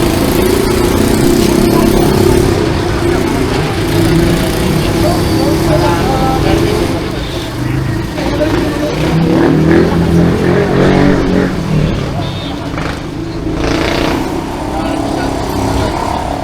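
A motorized tricycle's engine runs continuously at a steady, moderately loud chug, with people talking over it.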